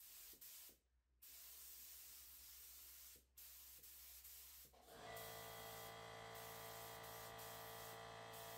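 Car spray gun blends paint on a Volkswagen T-Cross body panel: a steady close hiss broken by a few short pauses, then a continuous louder spray with a faint tonal hum underneath, no talking.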